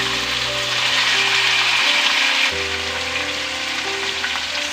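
Masala frying in oil for a dhaba-style chicken curry, a steady loud sizzle running throughout with no one speaking.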